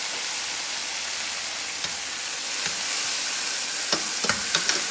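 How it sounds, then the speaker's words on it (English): Diced tomatoes with green chilies stirred into a hot sauteing pan for chicken spaghetti, a steady sizzle with a few scraping utensil knocks near the end. "So now we have this good and hot, and it's sauteing."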